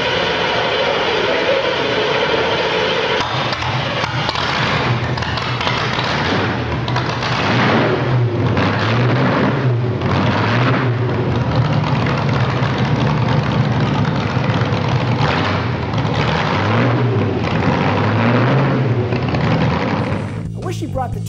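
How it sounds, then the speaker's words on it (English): A 1960s Chaparral race car engine runs loud and continuous at Laguna, its revs rising and falling in a low rumbling drone, while a person talks over it. "Listen to this startup."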